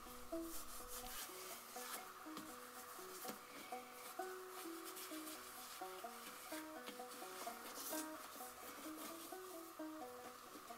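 Bare hands rub and smear shoe grease over a boot in soft, repeated squelching strokes, quiet and close, with faint music in the background.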